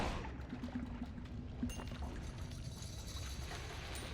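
Water spraying in the Noita video game: a steady, moderately loud rushing hiss runs continuously for about four seconds with no talk over it.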